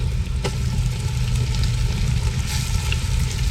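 Dried chillies and onion fry in hot oil in a village-style kitchen, giving a loud, steady, close sizzle that crackles continuously with a few sharper pops.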